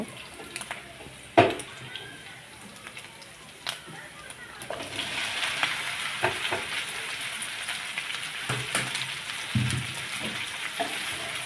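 Okra added to browned onions frying in a pan, a soft sizzle that grows fuller midway, with utensil clatters and stirring, while a voice talks over it.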